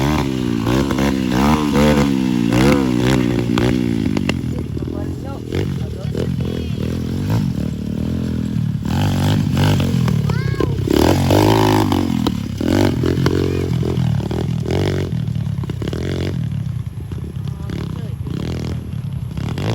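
A racing motorcycle's engine roars and winds up and down through gears with engine braking, loud and close, while excited voices shout and talk over it throughout.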